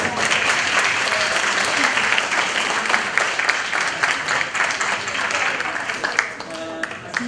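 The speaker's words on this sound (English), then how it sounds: "let's give an applause to Sayal." Crowd at a Save Soil advocacy event applauds a volunteer coming forward, a thick, continuous wash of many hands clapping that holds steady and only begins to thin slightly at the very end.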